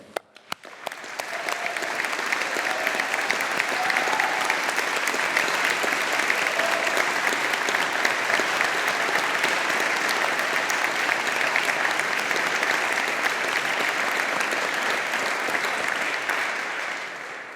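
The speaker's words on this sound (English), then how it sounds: "congratulating our graduates of 2021 on their achievements and their success with a round of applause from all of us here." A large hall crowd applauds graduates at a 2021 engineering faculty ceremony, a loud sustained wash of clapping that swells quickly and holds for many seconds before tapering slightly.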